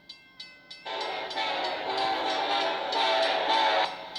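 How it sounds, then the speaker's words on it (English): A BNSF locomotive horn sounds a few short toots, then a long loud sustained chord that holds for about three seconds before cutting off, close and clear. "that horn is actually beautiful"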